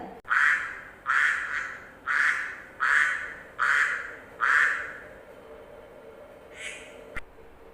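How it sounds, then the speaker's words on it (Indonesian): A duck quacks in a steady series of six loud, nasal quacks at an even rhythm, then gives one fainter quack after a short pause, with no other sounds around it. "Itu suara bebek."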